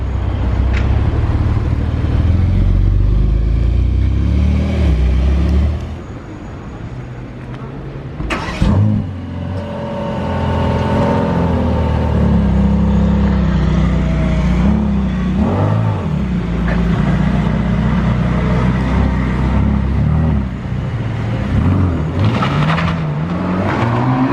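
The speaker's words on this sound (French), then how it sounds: "Le bruit, j'étais pas prêt. Il était vraiment bizarre, rien à voir avec une AMG GT de base." A Mercedes-AMG GT Black Series accelerates hard and loud, with repeated revving surges, gear changes and a brief quieter lull, and voices talk over the engine at times.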